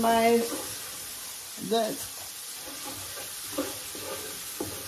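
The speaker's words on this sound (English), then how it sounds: "Just saute this, saute this." Food sautés in a pan at home, a soft sizzle running under sparse clinks of a utensil against the pan, with a few brief tonal bursts standing out over the frying.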